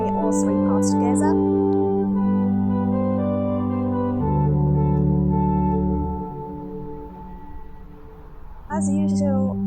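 Organ playing Lord of the Dance with both hands and the pedal board together, sustained chords over a deep pedal bass line, loud and full, the harmony shifting every few seconds.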